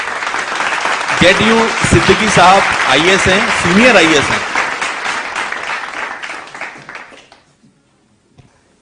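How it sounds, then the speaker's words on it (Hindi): An audience at a community social-service gathering breaks into applause, steady crowd clapping under someone speaking into a microphone, then fading out into near silence. "जोरदार तालियां दोस्तों"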